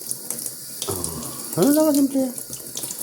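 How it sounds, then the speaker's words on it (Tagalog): Water running from a kitchen tap into a sink, a steady rushing stream close by with a brief louder surge midway, while a person speaks over it. "Ayan, tubig. Hugasan natin."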